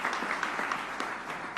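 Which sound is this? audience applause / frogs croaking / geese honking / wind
audience applause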